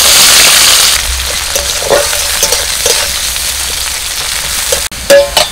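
Chopped onion hisses and crackles as it fries in mustard oil tempered with whole cumin, with a loud steady sizzle, occasional stirring scrapes, and a brief dip near the end.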